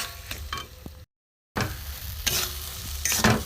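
Grated boiled potato and spices for matar shutir chop are stir-fried in a pan, giving a soft sizzle with scraping stirs and a few sharper clinks, cut by a brief stretch of total silence.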